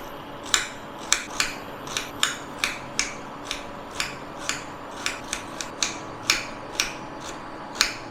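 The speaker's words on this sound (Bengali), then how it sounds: "এইভাবে পাতলা পাতলা করে পেঁয়াজটাকে কেটে নিচ্ছি" A kitchen knife thinly slices an onion on a cutting board, making crisp, close, regular chopping ticks about twice a second over a faint background hum.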